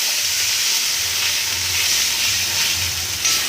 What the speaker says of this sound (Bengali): এবার একটু সামান্য পরিমাণ জল দেবো